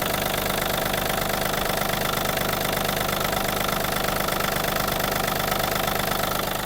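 A Yanmar AF-330 mini tractor's three-cylinder diesel engine idles steadily and loudly up close, a continuous knocking chug with a dense, even rhythm and no voices.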